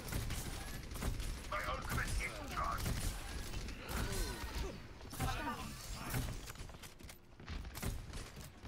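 Gunfire and ability effects from Baptiste in the team shooter Overwatch, with bursts of shots, crashes and mechanical clatter running steadily throughout, under a voice talking over the game.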